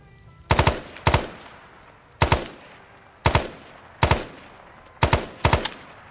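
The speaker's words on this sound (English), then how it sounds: "So now I'm gonna try and fire in full auto." Full-automatic rifle fire in the military game ARMA 3 S.O.G. Prairie Fire, six short bursts of two or three close, loud shots each, separated by brief quiet gaps.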